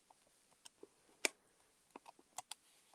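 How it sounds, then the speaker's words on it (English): A calculator's keys are tapped in a quick, uneven run of small, faint clicks, with one sharper press near the middle, in a quiet room with no talking. "if I can type in my calculator properly"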